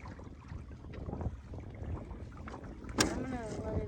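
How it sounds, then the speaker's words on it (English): Strong wind at sea aboard a fast-moving sailboat, a steady blustery rush buffeting the microphone with a louder gust near the end. "The wind's pretty strong."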